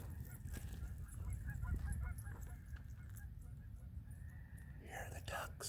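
Geese honk repeatedly outdoors alongside ducks, moderately distant calls over a steady low background rumble, with quiet talking faintly present.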